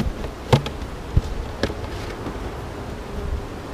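Bees buzzing around an open beehive, a soft continuous hum with a few knocks and clicks early on, no voices.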